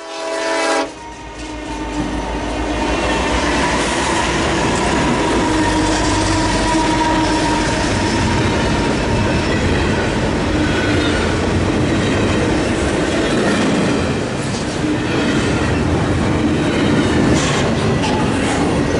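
A freight train rumbles past close by, its heavy diesel engines, two SD70M-2s and a GE C44-9WL, droning loudly alongside the steady clatter of rolling cars.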